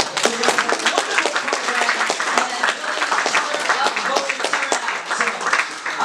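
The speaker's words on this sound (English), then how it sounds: "I want to make sure that we give the most greatest applause to our Commissioner Omar Sabir." Audience applause for a commissioner at an election event, dense steady clapping from a crowd filling the whole stretch at an even loudness.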